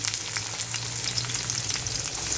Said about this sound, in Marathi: आता हा कांदा टाकते मी.